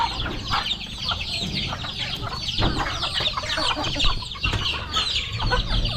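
Free-range chickens and chicks cluck and peep continuously at close range while being fed yellow corn on a farm, a busy overlapping chorus of short calls.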